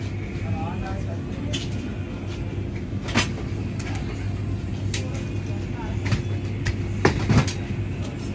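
Vande Bharat Express train in motion, a steady low rumble and hum of the carriage running on the rails with occasional knocks and clatters, people talking faintly inside the coach.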